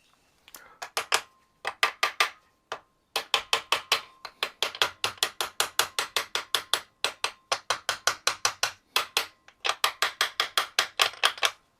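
A small hammer taps repeatedly on the oil pump of a Kawasaki Z1A 900 motorcycle engine, a long run of sharp metallic knocks in quick bursts with brief pauses, close and fairly loud, no talking.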